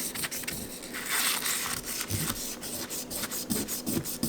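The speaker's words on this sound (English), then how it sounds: "for a back plate I like to just go straight so that my file lines are all going in the same direction" A hand file rasps straight across a small metal back plate for a bezel-set stone stacker ring, giving quiet close scratchy strokes in an uneven rhythm with occasional light taps.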